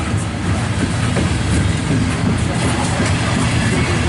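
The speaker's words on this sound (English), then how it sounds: "This is my third train right now." A loaded CSX coal train rolls past on railroad tracks. A loud, continuous rumble of wheels fills the whole stretch, with faint clickety-clack over the rails.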